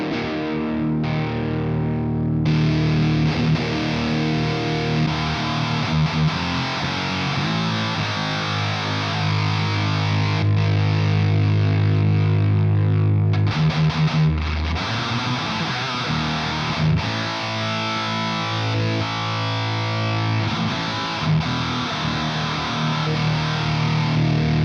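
An electric guitar plays through an HM2-style distortion pedal, producing thick, saw-toothed buzzing chords and sustained heavy riffs with abrupt stops and restarts, loud and unaccompanied by speech.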